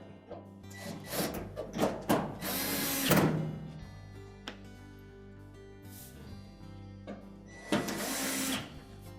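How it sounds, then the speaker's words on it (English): Retaining screws are driven back into the light cover of a Whirlpool refrigerator, producing close, fairly quiet whirring bursts from a small driver with brief pauses and scattered light clicks between them. "We'll reinstall the 2 retaining screws at the back."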